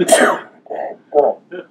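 A single sharp sneeze bursts out loud and close, followed by a few short voiced syllables of talk.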